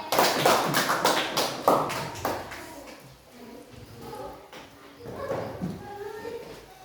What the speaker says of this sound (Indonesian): Tepuk tangan dulu untuk Tasya.